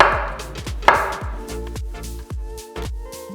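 A knife cuts large bananas into pieces on a board, landing a quick, even series of about ten close chops, with soft background music underneath.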